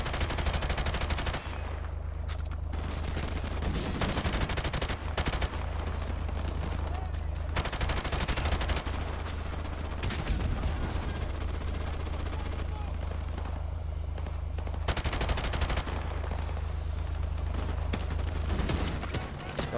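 Rapid gunfire bursts repeatedly in the Call of Duty 4: Modern Warfare game, loud and close, with steady automatic fire and brief pauses over a constant low rumble.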